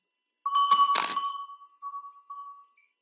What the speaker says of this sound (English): So here's a little bell.